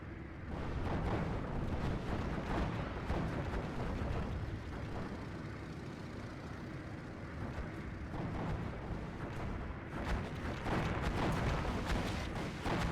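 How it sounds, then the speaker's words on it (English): Bombs dropped by an HE-111 bomber in the WWII strategy game Steel Division 2 explode in a continuous rolling barrage, with deep booming blasts and crackling impacts layered over a sustained rumble. "Good bomb drops by the HE-111"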